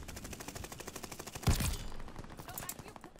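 An enemy player's gunfire in Call of Duty Vanguard comes as a rapid, evenly spaced burst of shots, with a louder, closer blast partway through and the firing continuing afterward.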